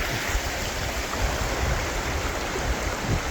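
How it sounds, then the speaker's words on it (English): Water rushes steadily in a small stream, a constant close babbling and gurgling with no pauses. "A little stream."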